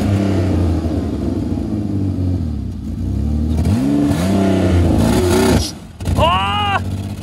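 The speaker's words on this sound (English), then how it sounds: "They're going to spin the front wheels." A Honda Civic revs hard while pulling, spinning its front wheels, its engine note rising and falling in repeated surges, loud and close, with a brief dip near the end before another sharp rev.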